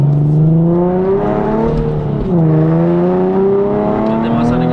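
A Nissan 370Z Nismo with a full tube exhaust revs loudly, its engine note sweeping down and climbing back up in a rich, resonant growl.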